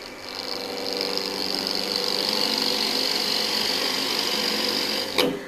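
A wood lathe spins up to about 1300 RPM to turn an inside-out ornament, a steady high-pitched motor whine with a faint hum that holds for around five seconds before a brief knock.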